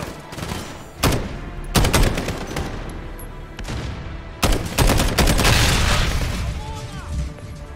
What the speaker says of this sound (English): I'm actually shooting directly up there.